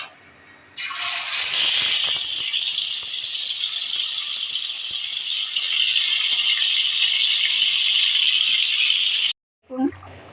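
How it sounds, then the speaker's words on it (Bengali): Hilsa fish slid into hot oil sets off a sudden, loud, hissing sizzle that holds steady for several seconds, then cuts off abruptly, followed by a brief voice. "আমি কিন্তু ওই তেলের মধ্যে মাছগুলো দিয়ে দিচ্ছি"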